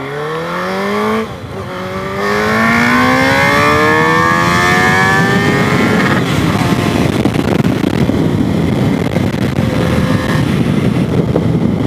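A non-street-legal GSXR 1000 motorcycle revs hard and accelerates through rising gear pulls, its loud, close engine whine climbing in pitch before settling into a sustained roar with wind buffeting.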